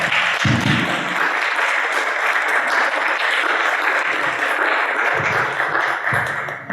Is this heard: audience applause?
yes